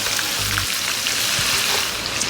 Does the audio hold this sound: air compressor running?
no